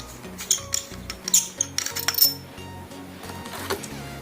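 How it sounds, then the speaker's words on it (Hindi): Batteries slide and click into a rechargeable Sanford LED long-range torch with a tight spring, giving a run of small metallic clinks and taps with no talking. "ये देख सकते हैं मैं इसमें बैटरी डालने जा रहा हूँ।"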